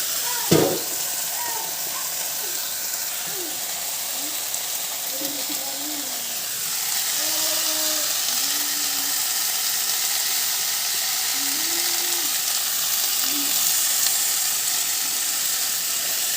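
Spices with turmeric fry in a pan with a continuous close sizzle and hiss, marked by a sharp clack near the start and faint scattered tones from a voice in the background.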